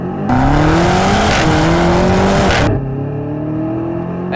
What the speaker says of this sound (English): As soon as it launches, it hooks so hard.